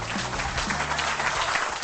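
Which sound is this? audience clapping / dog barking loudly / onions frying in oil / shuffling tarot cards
audience clapping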